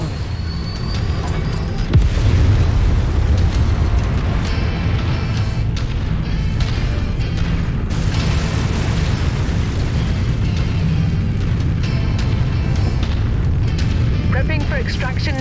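A mech is destroyed and explodes in the Mechwarrior 5: Mercenaries video game, a loud booming blast early on followed by continuous rumbling battle noise and crackling bursts, with voices talking over it.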